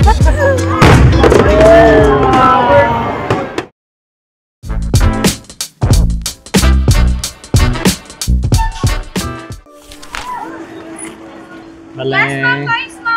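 Fireworks burst during a Baguio City Day celebration, a long run of sharp, loud bangs and crackles of varied strength, with talk, crowd noise and music mixed around them.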